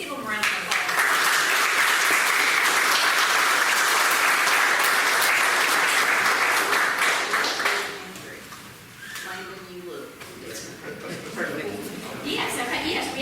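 Applause for the track coaches fills a school board meeting, loud and sustained for several seconds. It then fades into softer scattered clapping and murmuring voices.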